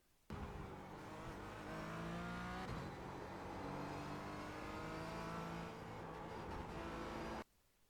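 A Porsche Cayman GT4 engine under throttle on the VIR race track, a loud steady rising engine note heard from on board that holds for several seconds and then cuts off sharply.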